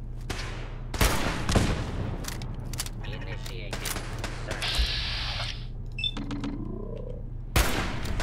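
Gunfire from a weak but accurate gun in the video game Fallout 4, several sharp shots spread unevenly across the span, moderately loud over a steady game ambience with other in-game effects.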